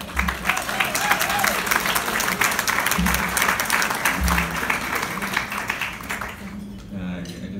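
Sustained audience applause for staff at a speech event, a dense crowd clapping at steady loudness that tapers off near the end.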